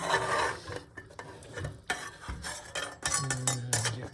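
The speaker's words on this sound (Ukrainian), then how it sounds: "Трошки треба розмішати." Pork and vegetables being stirred in an Afghan kazan, close-up scraping and rasping of a utensil against the metal pot with soft clinks, uneven strokes coming and going, no talking.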